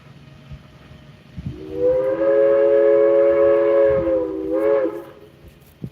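A Nevada Northern Railway train sounds one long, loud whistle blast of several seconds, bright and harmonically rich, that swells, holds steady and then fades, over low rumbling rail noise.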